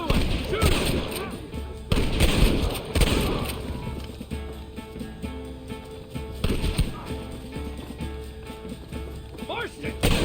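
Gunfire in Red Dead Redemption Remastered, a Western shootout: sharp shots go off at irregular intervals among a busy battle mix, with voices talking throughout.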